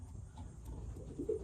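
A molting racing pigeon in a loft gives a soft, low coo that swells briefly near the end over quiet background hum.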